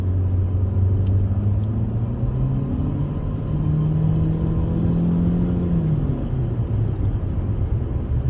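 A car's engine drones steadily while driving on the road, a loud low rumble with a slowly rising and falling hum under continuous road noise.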